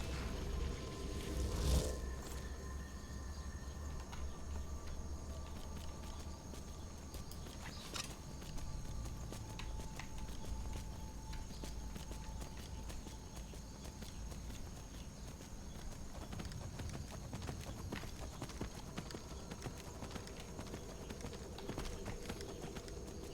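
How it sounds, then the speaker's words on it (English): Horse hooves clip-clop steadily in Skyrim after the horse is summoned, a continuous walking rhythm of hoofbeats at moderate loudness over a low ambient game background, with a brief louder burst near the start. "Just summon the damn horse"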